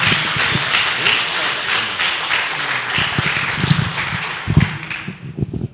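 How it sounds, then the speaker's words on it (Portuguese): Dense applause from a church congregation praising the Lord Jesus, steady clapping filling the space for several seconds with a few sharper claps near the end and murmuring voices underneath. "Então, queria que todos dessem uma salva de palmas para toda a honra e toda a glória do Senhor Jesus."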